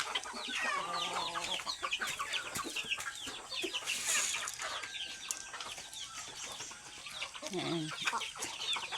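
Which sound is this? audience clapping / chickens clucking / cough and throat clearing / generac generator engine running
chickens clucking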